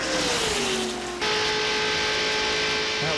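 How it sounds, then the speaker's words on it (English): NASCAR stock car engine at Talladega Superspeedway during the 1995 Winston Select 500, a loud sustained roar with a falling pitch as the car passes the broadcast booth, with distant engine drone behind it. "we've been listening to that 4 car come by the booth here"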